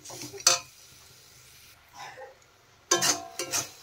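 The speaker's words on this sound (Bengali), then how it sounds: "দেখেন ভালোভাবে মিশিয়ে দিলাম।" Jaggery filling for puli pitha is stirred in a pan, with a few scattered scraping and clinking strikes of the spoon against the pan separated by quiet gaps.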